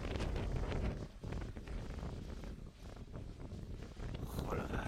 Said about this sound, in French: il commence à avoir beaucoup de vent